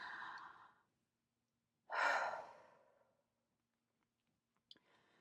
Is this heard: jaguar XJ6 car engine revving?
no